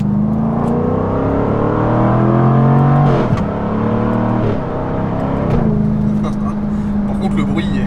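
Jaguar F-Type V8 sports car engine accelerating hard on the road, a loud, steady revving growl that climbs through gears with brief dips at each shift, heard close from inside the car.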